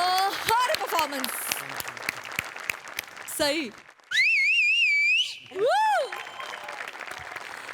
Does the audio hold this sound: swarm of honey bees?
no